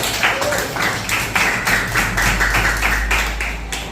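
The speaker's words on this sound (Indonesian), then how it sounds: "Kita kasih tepuk tangan dulu." A classroom of students claps for a classmate in a teaching session, quick rhythmic bursts of hand claps repeating at a steady pace, close and moderately loud.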